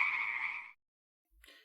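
A single loud, buzzing frog croak for a production logo, close and sustained for under a second, then silence and a short faint tail.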